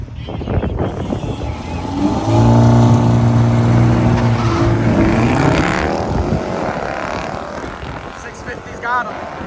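A BMW 330i xDrive and a BMW 650i run down a drag strip, engines droning loud and steady as they pass, with people talking over the noise.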